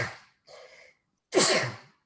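A single close, loud sneeze preceded by a couple of quick indrawn breaths.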